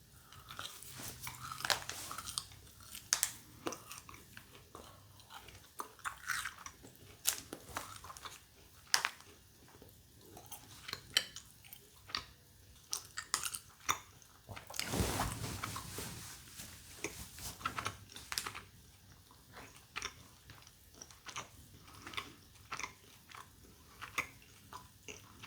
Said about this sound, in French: C'est quand même un peu difficile à mâcher.